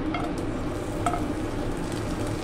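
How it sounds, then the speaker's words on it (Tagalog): Ginger sizzles in hot cooking oil for ginisang monggo, a steady close frying hiss with faint stirring clinks throughout, no talking. "Magigisa na tayo guys. Nagpainit ako ng mantika."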